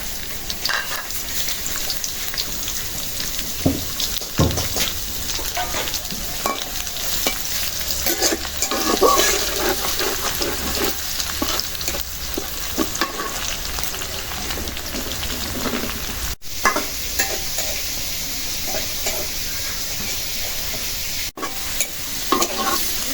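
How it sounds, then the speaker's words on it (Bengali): Dried chillies and chopped garlic frying in oil in a village kitchen, a loud, dense, crackling sizzle like rain on a surface with constant stirring scrapes, continuing alone without talk. "আমি ভালো করে ভাইজে নিলাম"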